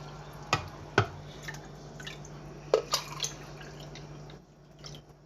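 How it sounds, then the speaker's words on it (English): Water scooped with a cup from a large bowl over a sink, a few sharp splashes and drips spaced through a quiet room with a steady low hum underneath. "Now I'm going to try to take water from my big bowl here."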